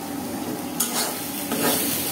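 Drumstick leaves stir-frying in a pan give a constant bright sizzle, with two short scraping stirs breaking through the hiss.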